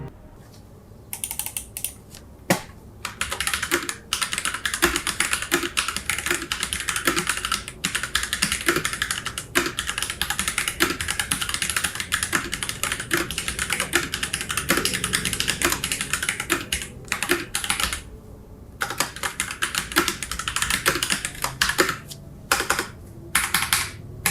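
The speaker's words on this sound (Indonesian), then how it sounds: "Saya baru pertama kali coba switch Gateron Yellow di mechanical keyboard." Rapid, steady typing on a mechanical keyboard fitted with Gateron Yellow switches, close and crisp, dense clusters of clacks with brief pauses, no talking.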